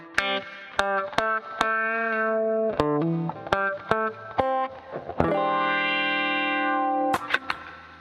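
Electric guitar played through a wah pedal, notes and chords with a sweeping, vocal-like tone, each note plucked sharply and ringing out, loud and close.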